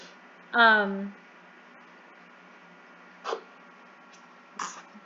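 A single sharp sneeze rings out near the start in a quiet room, followed later by two brief soft sniffs or breaths.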